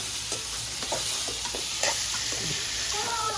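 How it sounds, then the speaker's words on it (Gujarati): Vegetables tempered in hot oil give off a steady, close sizzle with scattered light clicks of stirring. No one speaks. "આ રીતના શાક વઘારું હું"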